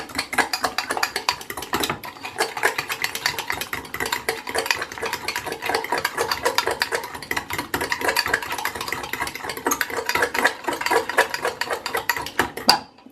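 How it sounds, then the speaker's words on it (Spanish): A utensil works steadily through sponge cake batter sweetened with panela in a bowl, giving a fast, continuous scraping and tapping rhythm close up for several seconds. "Lo volvemos a mezclar, que quede bien mezclada."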